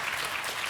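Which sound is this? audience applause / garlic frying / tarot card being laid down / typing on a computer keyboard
audience applause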